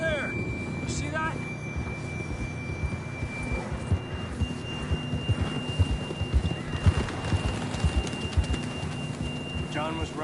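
Horse hooves clip-clop steadily in a video game, a continuous trotting rhythm mixed with bird calls and game ambience.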